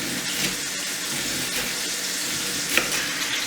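Red onion hitting a hot pan, a steady dense sizzle and crackle of frying throughout, close and loud, with a brief sharper pop near the end.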